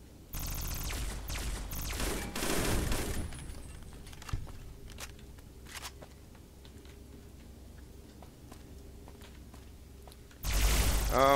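Turrets in Folly of the Old World open fire in a loud burst early on, then scattered ticking shots and faint steps follow over a low hum before another loud blast at the end.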